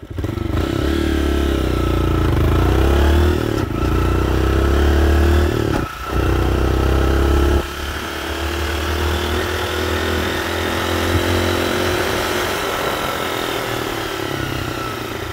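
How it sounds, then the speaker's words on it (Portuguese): Close, loud motorcycle engine with a tip fitted to its exhaust, idling and revving steadily, a deep throaty rumble that briefly dips before settling into a lower drone. "Com a boquinha no escapamento agora."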